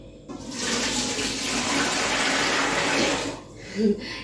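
A large batch of vegetable curry for about seventy people being slowly poured out, giving a steady, close, wet gushing and sloshing that runs for several seconds before tapering off, with no talk over it.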